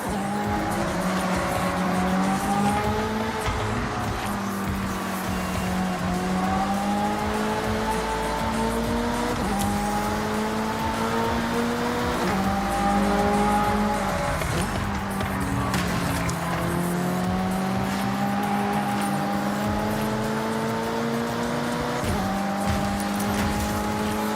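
Race cars in the Forza Horizon 6 video game, engines roaring continuously and loudly with rising and falling revs, shifting gears and occasional tire squeal, with no speech over them.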